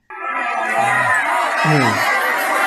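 A dense crowd packed into the Pendopo town square for a free food handout, heard as a brief, loud wash of overlapping shouts and excited voices close by.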